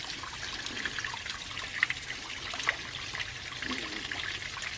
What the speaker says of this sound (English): Just some water slipping off the right side there.